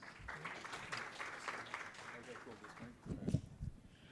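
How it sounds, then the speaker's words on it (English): A conference audience at a blockchain event in Singapore claps for a speaker taking the stage, a moderate spread of hand claps that thins out partway and is partly overlaid by a voice. "So please give Hart a big round of applause."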